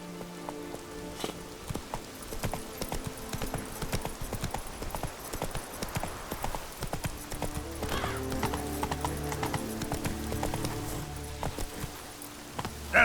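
Roach the horse trots in The Witcher 3 with a brisk, rhythmic clip-clop of hooves over a soft rain-like background. Low musical tones rise in the second half.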